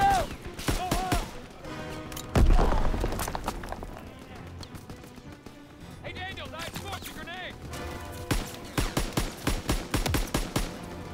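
Grenade blasts and chaotic gunfire in Call of Duty WWII combat on Hill 493, with a heavy low boom near the start amid steady shooting, then a rapid run of sharp bursts toward the end; a voice talks over the fighting.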